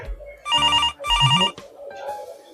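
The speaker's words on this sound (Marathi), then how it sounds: "मी आता तिला फोन लावतो" A telephone rings as a call is placed, two close, loud trilling bursts of electronic ringing about half a second each, followed by quieter background sound.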